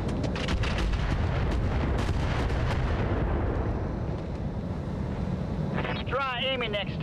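Heavy booming weapon fire in the mech combat game BattleTech, with repeated rumbling blasts in the first half and a voice talking partway through.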